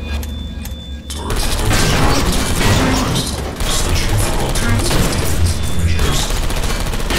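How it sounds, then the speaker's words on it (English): Turrets in Portal Stories: Mel fire on servers amid crashing and mechanical clatter. A steady, loud barrage of shots and impacts continues for several seconds and briefly dips midway. "The turrets are shooting the servers!"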